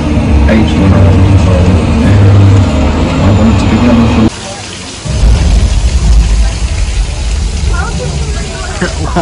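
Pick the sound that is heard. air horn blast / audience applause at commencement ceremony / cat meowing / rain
rain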